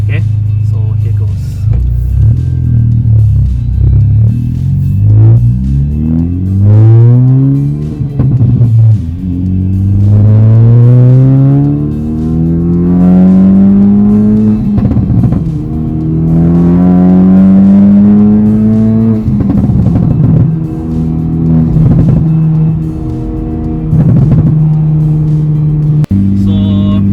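A Honda Civic Type R FK8 accelerating on the road, its engine climbing through several gears with rising pitch between shifts, loud and close from inside the car.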